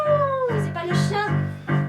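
A human voice imitates a dog howling during a live improvised theatre performance, a long wavering tone sliding downward, then a few shorter howls and yelps in quick succession, close and fairly loud.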